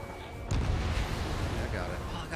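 Bombs dropped from a jet in Ace Combat 7 hit with a sudden loud boom that rolls into a rumbling blast, and a voice talks over it.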